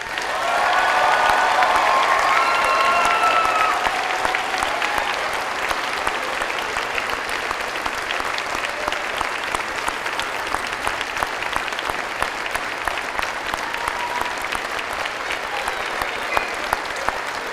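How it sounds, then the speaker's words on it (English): A large audience at a university convocation ceremony applauds the graduating class, a loud dense wash of clapping with cheering at first, then settling into steady sustained applause with individual claps audible throughout. "I ask your friends and family to join me in applauding the graduating class of June 2002"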